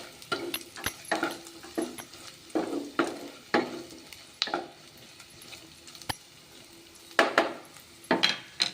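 Carrots and onions stir-fried in a pan, with repeated scraping and clinking strokes of a spatula against metal over a soft sizzle, loud and close, no talking.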